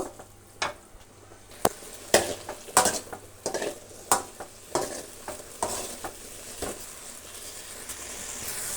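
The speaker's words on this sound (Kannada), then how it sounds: "ಈ ಹುಣಸೆ ರಸದ ನೀರೆಲ್ಲ ಹೋಗಬೇಕು ಅಷ್ಟು ತನಕ ನಾವು ಫ್ರೈ ಮಾಡ್ಕೋಬೇಕಾಗತ್ತೆ" Okra and potato pieces frying in tamarind juice in a pan, stirred with a utensil that clinks and scrapes in irregular strokes over a steady sizzle, close and alone without talk.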